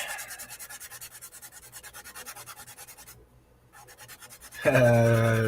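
Sanding a small craft piece by hand, a steady rhythmic scratchy rubbing of strokes that briefly pauses, then a louder buzzy burst near the end.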